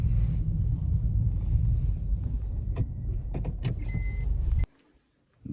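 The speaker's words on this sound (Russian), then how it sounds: "Машин много вечером." Cars pass along an evening city street, a steady close engine and tire rumble with a few sharp clicks, cutting abruptly to near silence at the end.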